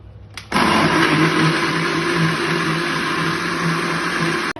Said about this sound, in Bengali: এগুলোকে ভালো করে ব্লেন্ড করতে হবে।